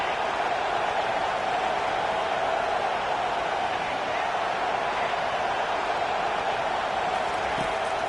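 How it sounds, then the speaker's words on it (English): A football stadium crowd roars steadily throughout a third-down defensive stand in a Cali vs Vegas game, a dense, sustained wash of cheering and noise with no pauses. "Decibels rising as the crowd gets behind this defense on third down."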